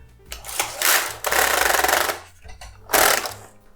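Passap Duomatic 80 knitting machine with its needles hitting as the carriage is pushed across: loud, rapid mechanical clattering in three bursts separated by brief pauses, close up.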